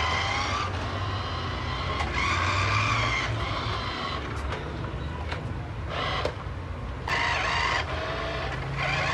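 A remote control Bugatti model toy car drives back and forth in steady whirring runs. Its motor drones continuously, with brief pauses and sharp clicks where the direction changes.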